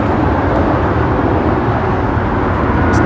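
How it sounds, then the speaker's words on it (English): Loud, steady roar of a Boeing 737-800 jet airliner taking off at LAX, a broad continuous rumble holding level throughout with no voices. "American Airlines 737 is taking off to Chicago"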